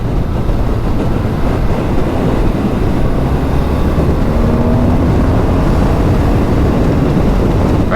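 Riding a 2024 BMW R 12 nine T motorcycle, with a constant loud roar of engine and wind rushing past at speed, steady throughout without talk.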